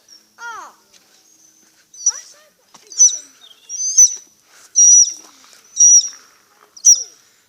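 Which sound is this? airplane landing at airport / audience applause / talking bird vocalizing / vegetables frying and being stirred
talking bird vocalizing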